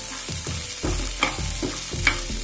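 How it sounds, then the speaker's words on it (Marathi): Fresh green pigeon peas being sautéed in a pan for a village-style amti, with steady sizzling broken by several rhythmic spatula scrapes and stirs, close and clear. "आता आपण परतून घेतलेत चांगले सोले। थोडासा हलकासा कलर बदलला पाहिजे याचा।"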